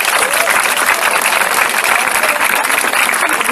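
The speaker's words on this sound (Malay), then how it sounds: "berikan tepukan kepada mereka" Audience applause at a political gathering, a dense sustained wash of many hands clapping, loud and continuous with no pauses.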